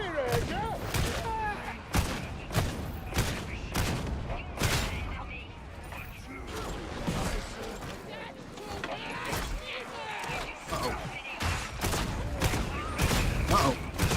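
Rapid gunfire in the video game Darktide, dense bursts of sharp shots in quick rhythm with mechanical clanks, loud and near, with talk mixed in.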